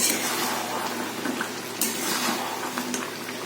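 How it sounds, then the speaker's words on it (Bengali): Chicken and potatoes cooking together in a covered pot, a dense, even bubbling and sizzling hiss with small crackles, close and steady throughout with no talk. "এদিকে চিকেনটা কষা হচ্ছে আলু চিকেন সব একসাথে দিয়েই কষাচ্ছি ঢাকা দিয়ে দিয়ে"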